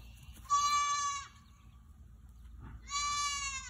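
Baby goats on a farm bleating, two loud, close, nasal bleats separated by a quiet pause, with a faint low rumble of background noise underneath.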